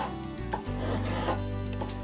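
A hand saw rubbing and rasping across the corner of a piece of wood on a rip-cut blade demonstration, a close, continuous scraping stroke with a few slight bumps, no talking.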